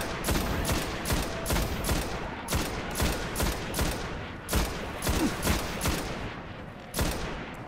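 Rapid rifle gunfire from a primary weapon in the Destiny video game on Xbox One, loud and close, with repeated bursts of shots crackling in a steady rhythm throughout, no talking.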